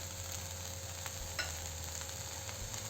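Soybean bhurji being stirred in a pan on the stove, with a steady, close sizzle of frying and faint scraping of the spoon running underneath, no voices.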